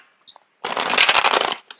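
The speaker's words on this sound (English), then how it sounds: "The cards are not shuffling too well." A deck of tarot cards being shuffled close up, a dense burst of riffling lasting about a second after a couple of small taps, with a brief flick at the end; no voices.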